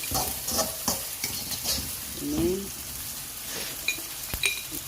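Fried rice sizzles in a pan while being reheated, with a spatula scraping and clinking against the metal in repeated stirring strokes amid a constant crackle; a few words are spoken briefly.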